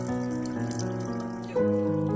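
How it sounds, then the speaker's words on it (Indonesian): Water runs steadily from an open tap in a continuous hiss under a tonal music bed, growing slightly louder toward the end. "tidak menutup keran setelah digunakan"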